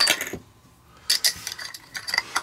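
A Mac-Lite flashlight's end cap being screwed back on after three AA batteries are loaded, giving short, close clicking and grinding twists in a few bursts with a quiet pause between.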